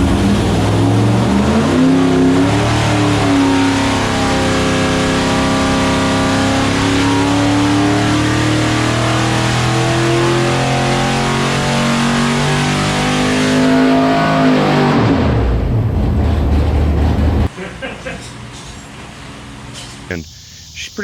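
A 640-horsepower big-block Mopar stroker V8 in a 1970 Dodge Charger revs hard and loud, pitch climbing and falling through long throttle sweeps, then drops abruptly to a rough idle near the end.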